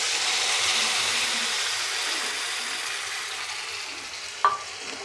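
Ginger and onion fry in a pan with a steady, bright sizzle that slowly eases after raw tomato juice is poured in, followed by a single sharp clink of a utensil near the end.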